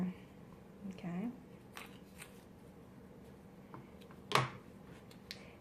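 Scissors snip into a plastic soda bottle with a few soft crunches, followed by one sharp, louder cut near the end, close by and quiet, with a person talking briefly.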